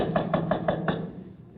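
Five quick, evenly spaced knocks on a door, crisp and close, followed by a brief fading room tone.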